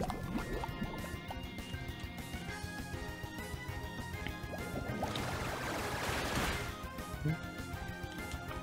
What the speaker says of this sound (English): Alright, let's do Water Pulse.